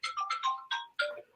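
A phone ringtone goes off nearby in a quick run of five or six bright electronic chirping notes, loud and clear against silence, lasting just over a second.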